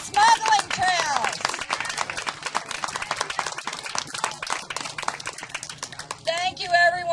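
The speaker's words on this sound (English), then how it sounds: "A big round of applause for all the folks who are willing to climb over the fence" A crowd claps at a border-security gathering, a loud, close patter of many hands that runs nearly the full length, with a voice heard briefly at the start and again as the clapping fades.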